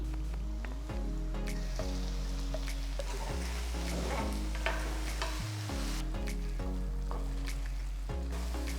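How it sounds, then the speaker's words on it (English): Tomatoes cook covered in a pan for tomato pickle, giving a steady soft sizzle and bubbling with regular low knocks from stirring or the lid, close and even throughout, with no voices. "I'm going to close this and cook for about 10 minutes till the tomatoes become nice and soft and mushy."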